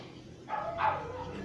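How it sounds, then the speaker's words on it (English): A dog barks twice in quick succession at a moderate distance indoors, the short yelps rising over a steady low background hum without any talk. "Sorry about the barking."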